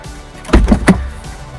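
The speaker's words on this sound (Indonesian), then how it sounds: "Terus kalau misalnya buka pintu, nih pintu driver ya," Driver's door of a BMW electric car, an X1, being opened up close: a few quick mechanical clicks and a soft thunk as the latch releases and the door swings, loud and alone.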